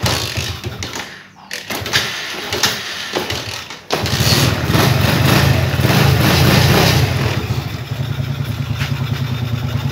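Motorcycle being kick-started without a key: a few clattering kicks and knocks, then the engine catches and runs at a loud, steady idle close by.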